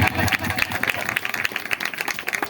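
Congregation at a Calvary Preeti Ministries church service in Bidar claps in quick, rhythmic bursts; the sharp hand claps form a lively, uneven pulse, with some voices faintly mixed in.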